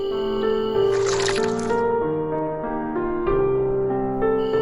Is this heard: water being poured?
yes